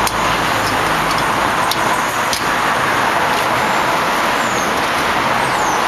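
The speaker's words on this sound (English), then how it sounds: "those are cars going by because we're out in front of the store" Steady wash of road traffic noise, cars rolling past continuously at moderate distance, with no voices.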